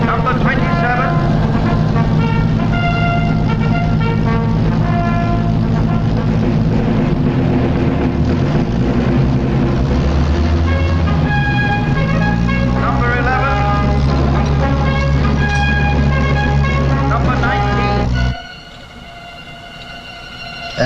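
Several aircraft approach with a loud, continuous droning engine roar during an enemy air raid on wartime Malta, sustained for many seconds before it cuts off suddenly.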